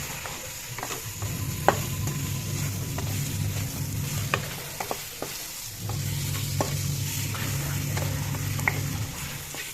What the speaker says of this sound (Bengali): তেল দিবি মাছখিনি এনেদৰে ভাজি লওঁ